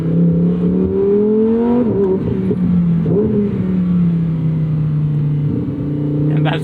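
A 2024 Lamborghini Huracan Sterrato's engine revs loud and close, its pitch climbing and dipping with quick 7-speed dual-clutch gear changes.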